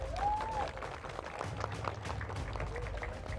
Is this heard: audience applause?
yes